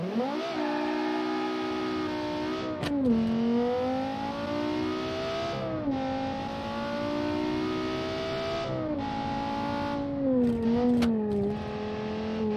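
Simulated car engine in the driving game Automation, a 500 horsepower build, revving high and loud in long rising pulls with brief drops between gear changes, close and alone without talk.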